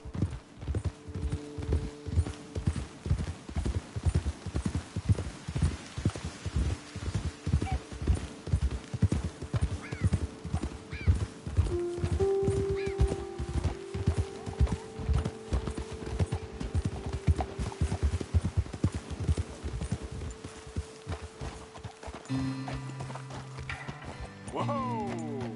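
Horse hooves clip-clop steadily during a ride in Red Dead Redemption 2, close and rhythmic. A neigh and a brief gallop are heard, and the hoofbeats slow to a stop near the end under game music.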